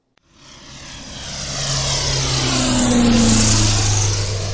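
Small propeller airplane engine during takeoff, the droning roar swelling steadily louder and close as the engine reaches full power, with no talking.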